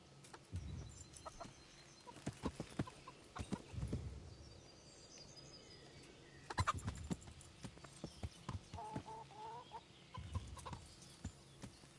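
Horse hooves clip-clop in uneven bursts on a path in the medieval video game Kingdom Come: Deliverance, with chickens clucking nearby and faint ambient background.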